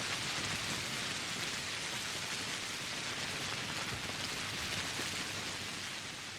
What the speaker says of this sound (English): the rain is playing loud this one time